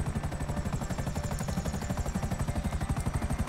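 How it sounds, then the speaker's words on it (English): A helicopter flies in Grand Theft Auto 5 on PC, its rotor making a fast, steady thumping chop over a constant engine whine, loud and close with no talking. "I've really not been too good at flying helicopters yet."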